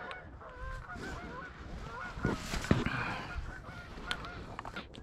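Geese honk repeatedly near a pond amid outdoor noise, with several calls rising and falling at moderate distance and louder bursts in the middle.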